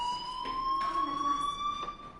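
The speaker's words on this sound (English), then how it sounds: "Hey, do you hear that fire alarm? That means you should be outside." A fire alarm in a video game sounds a steady high electronic tone with a fainter overtone, continuous and fairly loud, with some muffled background noise beneath it.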